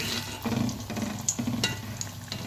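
Athirasam, a sweet snack, fries in moderately hot oil with a close, crackling sizzle and a few sharp pops and stirring clinks over about two seconds.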